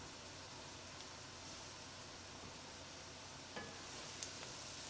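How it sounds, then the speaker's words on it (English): Onions frying in a pot for an Indian quail curry make a steady, soft hiss and sizzle throughout, with a couple of faint clinks near the end and no voices. "fry them well for at least 5 minutes"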